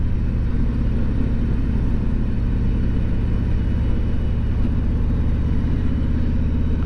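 Steady mid-low engine drone of a vehicle cruising at about 2,000 RPM in fifth gear near 40 mph, coasting gently downhill on the Blue Ridge Parkway on a fall day; continuous, even rumble with no talk.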